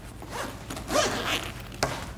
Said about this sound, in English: There's a big zipper on the back where it's started from the bottom